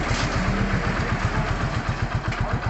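A warmed-up motorcycle engine idles steadily at around 900 RPM, a close, even low thumping pulse with a light mechanical clatter over it.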